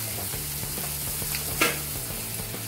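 Cabbage Manchurian stir-fries in a pan with a steady sizzle, broken by faint rhythmic scraping and stirring strokes and one louder scrape, heard close with no talking.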